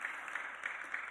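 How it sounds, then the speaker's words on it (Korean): Congregation in a church applauding, a brief and fairly faint burst of continuous clapping heard at a distance, with a steady hum underneath. "우리 박수합시다. 박수."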